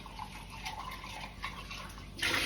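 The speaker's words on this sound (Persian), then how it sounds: "لیوانم هم یه آب بگیرم" Water poured into a drinking glass at home, a faint trickle and splash under quiet room noise, ending in a brief louder gush.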